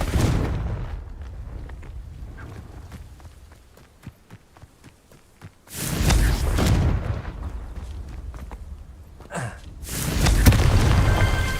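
Booming blasts from the Confringo spell in Hogwarts Legacy burst out in loud bursts, with quieter footsteps and small thuds between them.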